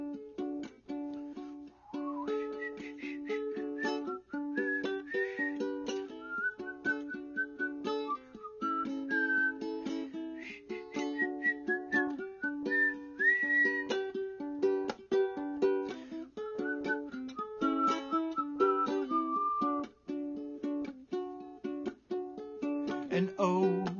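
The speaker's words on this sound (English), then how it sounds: "I think I'll try to whistle the solo." A person whistles a song's guitar solo live in a studio, a clear sustained melodic line gliding over steady instrumental backing for the full stretch, close and prominent.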